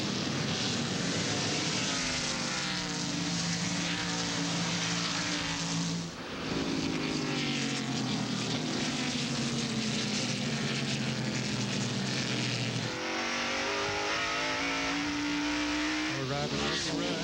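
NASCAR Winston Cup stock cars at the Sonoma road course during the Save Mart 300, engines roaring loudly and steadily as they speed past, with pitch sweeps as cars pass close by and a brief dip near the middle.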